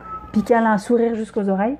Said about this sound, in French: le bruit bizarre, c'est le chat qui fait le fou.